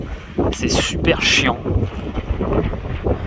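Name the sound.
strong wind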